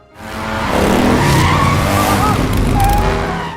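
A reckless motorbike rider skids hard on a street, producing a loud, sustained screech of tire and engine noise that swells quickly and holds for about three seconds before easing slightly.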